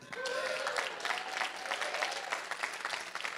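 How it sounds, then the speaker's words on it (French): A congregation at a church service applauds and cheers for themselves, a dense, steady wash of clapping with scattered voices that stays loud throughout. "Acclamez pour vous-même"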